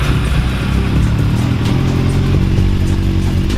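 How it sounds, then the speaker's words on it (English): A Kawasaki Z1000 motorcycle engine idles steadily after an oil change, a loud, close, continuous mechanical rumble with no pauses. "it's always good to run your bike post oil change"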